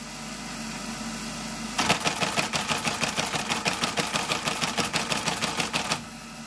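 A Creed 7B teleprinter prints a typed message, starting abruptly as a loud, rapid, steady clatter of mechanical strikes that runs for about four seconds, then stops and leaves only a quiet hum.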